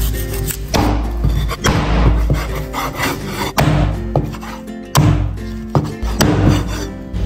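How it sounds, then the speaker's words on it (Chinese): A cleaver chops through pork ribs on a wooden board in a series of heavy, close thuds at an uneven pace, without any speech. "先把排骨剁一下。"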